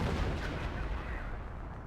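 Artillery shells explode in quick succession in a WWII strategy game, a dense dull rumble of booms and crackling blasts that stays loud throughout the short burst.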